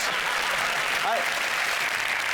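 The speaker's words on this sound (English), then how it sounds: "Oh, don't applaud it." Studio audience applause on a British comedy panel show, a continuous wash of clapping at steady level with a brief voice rising over it near the middle.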